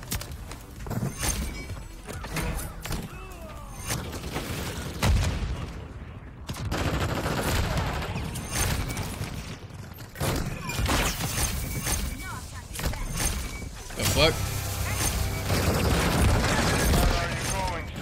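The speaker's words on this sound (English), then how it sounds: "Hostiles launched a cruise missile." Explosions and heavy gunfire from a cruise missile strike in Call of Duty: Modern Warfare III, loud bursts and rumbling blasts running almost continuously with brief lulls, while players talk over the game sound.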